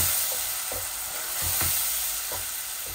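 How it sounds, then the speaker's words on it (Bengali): Minced meat (keema) frying in a pan for a potato keema bhuna, with a steady close sizzle and occasional spoon taps and stirring scrapes. "আমি কিমাগুলা ওইভাবে বুনা বুনা করব।"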